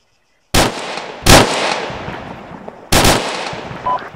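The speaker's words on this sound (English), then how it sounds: "What are you guys shooting at?" Gunfire in the military shooter Arma 3 during a team hostage-rescue match: three loud, sharp shots with long echoing tails across open terrain, separated by about a second and a half of fading reverb.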